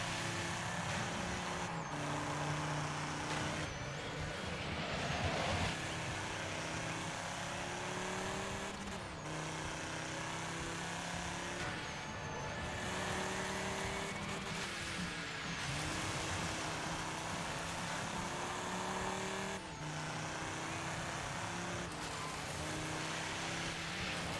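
A truck engine in an off-road dirt racing video game drones steadily with rising and falling revs and gear shifts, loud and continuous throughout.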